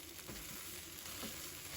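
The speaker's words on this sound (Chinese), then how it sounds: "秋葵炒成像这样子就差不多了" Okra pieces fry in a pan with a soft, steady sizzle and faint crackle, quiet and continuous with no voices.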